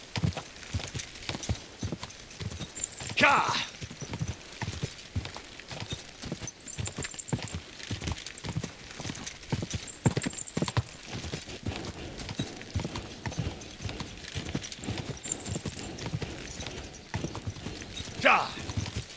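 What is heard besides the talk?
horse hooves galloping and neighing in video game Kingdom Come Deliverance 2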